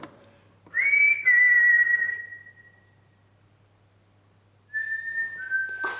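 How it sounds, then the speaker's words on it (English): A clear whistled tone at night inside the old HMP Shrewsbury prison, sounding in two separate sustained bursts with a quiet pause between them, fairly loud and with no talking over it. "Can you make another whistling sound?"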